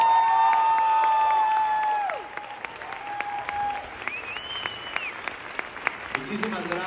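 A theatre audience at the premiere of The Prom in Mexico applauds and cheers loudly at first, the clapping fading into scattered claps and whoops, with voices calling out over it.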